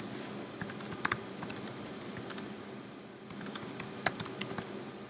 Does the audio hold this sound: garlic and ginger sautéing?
no